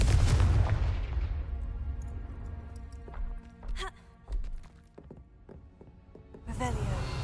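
A Confringo fire spell blasts in Hogwarts Legacy with a loud, booming burst that rolls away over a second or so, followed by several sharper cracks and thumps of debris and effects, then another swell of noise near the end.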